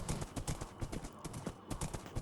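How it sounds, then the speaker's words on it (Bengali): Horse hooves clip-clopping in the Minecraft video game, a steady trotting run of close, crisp hoof clops repeating through the whole moment. "আমার ঘোড়াটা খুব সুন্দর চলছে"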